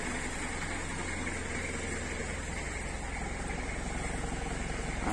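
Exhaust of a 1992 Nissan Cedric burbles at a steady idle, a constant close low rumble with a faint airy hiss, unchanging and without voices.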